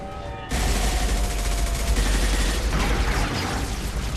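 Dense, continuous gunfire from the video game Mass Effect 2, a loud sustained barrage of rapid shots that breaks in suddenly after a quiet moment and runs on without pause.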